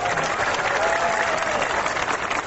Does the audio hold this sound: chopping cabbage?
no